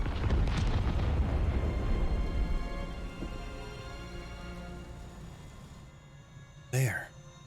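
Explosions in the video game Xenoblade Chronicles 3: Future Redeemed, a loud rumbling blast that slowly fades out, followed by a brief burst of another sound near the end.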